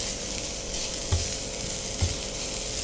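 Onions and stuffing fry in about a tablespoon of cooking oil, giving a steady, bright sizzle throughout, with two soft knocks from a stirring utensil, close and without speech.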